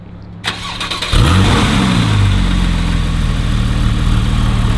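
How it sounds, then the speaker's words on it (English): A naturally aspirated 3.8-liter flat-six in a Porsche 911 991.1 C4S catches on a cold start after a brief crank, then settles into a loud, steady, high fast idle with no talking. "but Ben, let's get a cold start."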